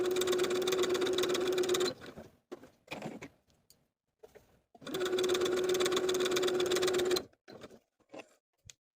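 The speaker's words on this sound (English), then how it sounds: "Using the longest stitch on your machine and leaving thread tails on both ends, we're going to stitch from notch to notch along both top edges." A sewing machine runs in two steady bursts of about two and five seconds, a close, even whirring hum while basting long stitches along the top edges of fabric pieces, with quiet handling clicks and thumps in the pauses.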